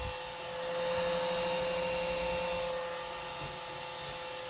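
Small cooling fans mounted in a 3D printed motor fan shroud on a Traxxas X-Maxx RC truck run with a steady, close, whirring drone and a faint tonal whine, one fan missing a fin.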